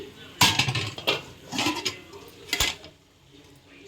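A pan clanks onto a stovetop in a home kitchen while chicken dum biryani is being cooked, giving several sharp metallic knocks and clatters up close, then a last louder clank.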